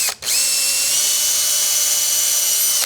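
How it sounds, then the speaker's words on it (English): A small power drill with a 1/8 inch bit spins up with a high whine, drilling through 1/4 inch plywood steadily for a few seconds, then stops. "So we're going to drill this"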